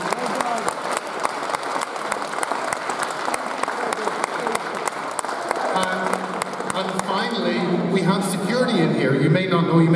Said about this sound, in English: could you please give a round of applause for the stewarding team?